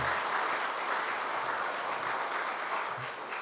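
A church congregation applauds a choir after worship singing, a steady, full round of clapping filling the room without a break.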